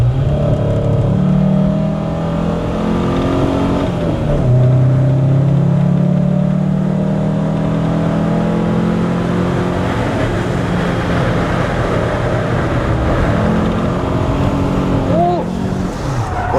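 A Porsche sports car engine drones and revs close by through gear changes on a track day at Snetterton, its pitch rising and falling steadily, with talking over the engine noise.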